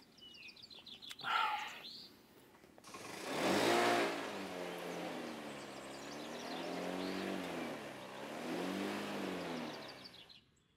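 A car engine revs up close, rising and falling in pitch through several surges, after a brief bird call at the start.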